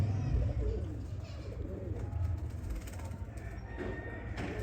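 A Sialkoti cross-bred pigeon coos softly in repeated low throaty phrases, fairly faint against a steady background hum.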